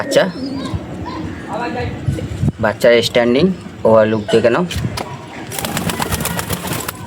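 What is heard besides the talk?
pigeon cooing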